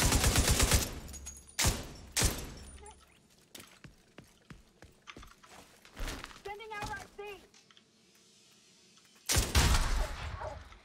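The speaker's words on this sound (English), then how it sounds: "Wow, that gun shoots really quickly." A rapid-firing gun in the video game The Division 2 lets off fast, loud bursts at the start, again around two seconds in, and once more near the end, with a person talking and quieter game sounds in between.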